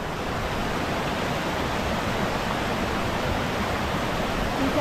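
Bhavali waterfall at Igatpuri in the Sahyadri hills, swollen with monsoon flow, a dense steady roar of rushing water filling the scene, loud and close without a break.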